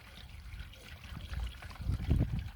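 A little water trickles and pours into a child's plastic potty during potty training, a soft, close, low splashing that swells toward the end, with no talking.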